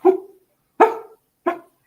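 A dog gives three short, close barks with whiny edges, evenly spaced with silent gaps between them, loud and alone.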